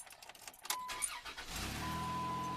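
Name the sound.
2004 Dodge Caravan engine starting up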